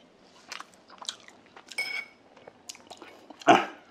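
Biting and chewing grilled eel at a home mukbang, close crunchy bites and wet chewing noises in irregular bursts, ending with one louder bite, no talking.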